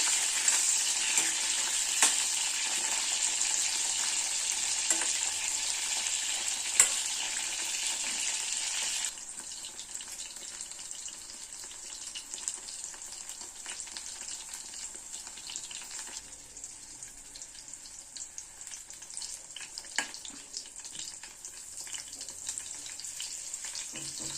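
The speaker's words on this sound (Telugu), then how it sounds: "ఇంకొక 2 నిమిషాలు ఇవి ఫ్రై అయిపోతే మనం గ్రేవీకి వేసేసుకోవచ్చు." Stuffed brinjal fries in a pan, giving a steady, bright sizzle that is loud for the first several seconds and then settles into a softer, continuous crackle with occasional faint clicks.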